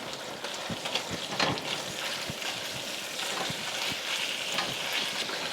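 Ground beef sizzling and crackling as it hits a hot pan for spaghetti bolognese, with bay leaves and a thyme sprig in the pot, a steady dense hiss with irregular pops and stirring scrapes throughout.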